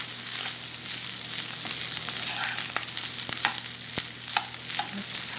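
Leftover rice sizzling and frying in a pan while a utensil stirs it, a continuous close crackle with scattered scraping clicks over a faint steady hum.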